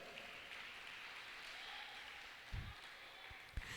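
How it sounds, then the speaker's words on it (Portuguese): Faint, diffuse applause from a church congregation praising the Lord, a soft continuous patter of many hands with a few louder low thumps near the end. "Aplauda o Senhor por isso."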